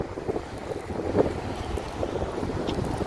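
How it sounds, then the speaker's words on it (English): Steady low rumbling wind buffeting the microphone while walking in downtown Chicago, continuous and moderately loud throughout, with no voices. "Now it's windy over here now. I hope you can hear me."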